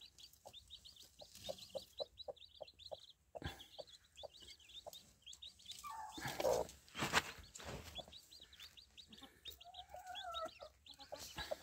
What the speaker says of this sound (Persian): اینم مرغ ما